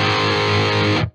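A high-gain electric guitar through a Lichtlaerm Audio Prometheus amp with the bite switch in its top position: one thick, fuzzy, sustained distorted chord, loud and close, cut off abruptly after about a second.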